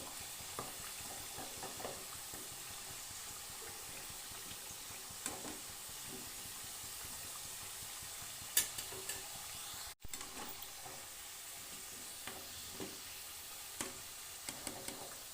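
Yam chops fry in hot oil with a steady, faint sizzling hiss, broken by a few soft clicks and one sharp knock as the pieces are turned over.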